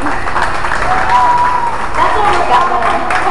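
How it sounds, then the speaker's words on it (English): An audience applauds at a dolphin show, steady dense clapping throughout with crowd murmur and a voice talking over it. "Give her a big round of applause."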